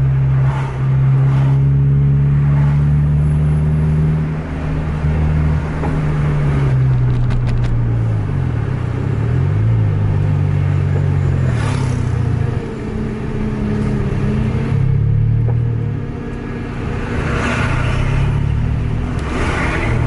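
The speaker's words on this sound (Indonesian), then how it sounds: "Lagi banyak kendaraan kiri dan kanan." Steady engine drone from within a vehicle in dense road traffic with many vehicles moving on both sides, harmonics rising and falling as the engine revs and shifts, loud and continuous throughout with no voices.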